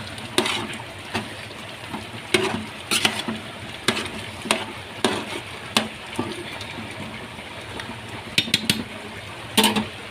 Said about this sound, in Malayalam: ഇതാ നമ്മുടെ ചിക്കൻ നന്നായിട്ട് വേവുന്നുണ്ട് കേട്ടോ. ഇതൊന്ന് മിക്സ് ചെയ്തോട്ടെ.